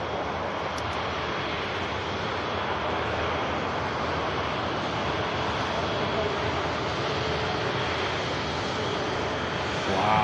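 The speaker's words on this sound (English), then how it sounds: "What a sound. Airbus A350, number 2 of its type today, from Singapore Airlines." A Singapore Airlines Airbus A350 at Manchester Airport, its engines producing a steady, loud, broadband roar that holds for the full stretch and swells slightly at the end.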